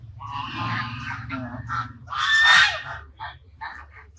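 Domestic ducks call at an old bungalow, a cluster of loud, nasal honking quacks in short irregular bursts, nearby and alone.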